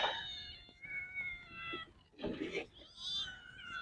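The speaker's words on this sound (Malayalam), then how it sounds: "നമ്മുടെ പൂച്ചക്കുഞ്ഞ് വന്നിട്ടുണ്ട്." Kitten meowing in several thin, high, drawn-out cries at close range, fairly faint, with some background noise between the calls.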